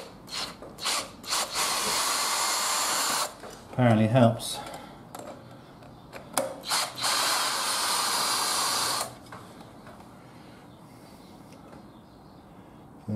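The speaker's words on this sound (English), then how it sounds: "Turning the drill into reverse" A power drill running in reverse whirs in several bursts, the longest running steadily for a few seconds, with a brief spoken remark between runs.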